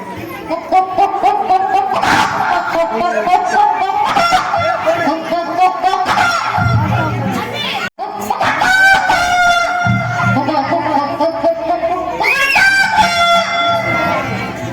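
A student imitates a rooster crowing at a Pongal school talent show, a series of loud, strained vocal crows over steady crowd noise, with a brief break near the middle before the calls resume.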